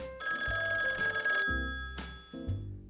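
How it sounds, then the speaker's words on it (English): An old rotary telephone rings in loud, repeated metallic bell bursts, each cut by short pauses in a steady pattern, close and alone. "The old rotary dial in the kitchen wailed like a cat."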